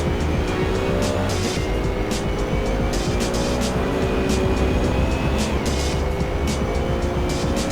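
A BMW GT3 race car engine in Assetto Corsa at Silverstone during an endurance race, with a steady loud drone, shifting pitch and faint tire squeal, no voices.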